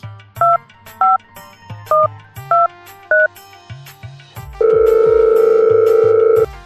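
Telephone keypad tones beep one after another as a number is dialled, with faint taps under them, then a long, steady, loud ring tone sounds while the call goes through.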